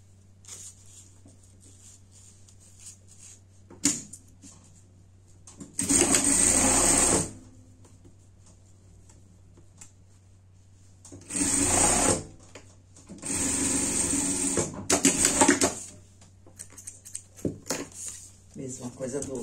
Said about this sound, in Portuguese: E vai passar uma costura de segurança aqui também